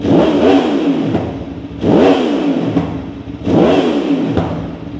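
A big 2,500cc motorcycle engine revs hard three times in a row, each throttle blip rising sharply then falling back to a rumbling idle, loud and close.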